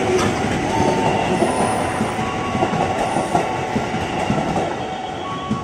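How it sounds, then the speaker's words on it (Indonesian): An Indonesian KRL electric commuter train from Bogor, bound for Angke, rumbles past up close with steady rolling wheel noise and rhythmic clatter, plus brief faint squeals, continuous for several seconds. "ada KRL komuter lain tujuan Angke tuh dari Bogor"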